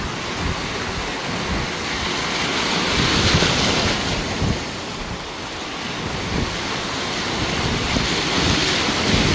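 Surf rolls in at the Wangpicheon river mouth, a loud, steady wash of breaking waves with heavy wind buffeting the microphone throughout, no voices.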